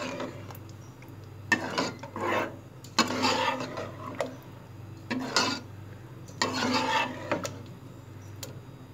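Ladle scraping and stirring through mixed lentils and beef in a curry pot, several bursts of rubbing and scraping in a rough rhythm, close and moderately loud, with no talking.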